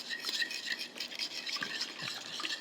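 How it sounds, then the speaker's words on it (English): Cornbread batter with eggs stirred in a bowl, a steady scraping, swishing rhythm of the spoon against the bowl, close and fairly quiet with no talk. "Mix this together."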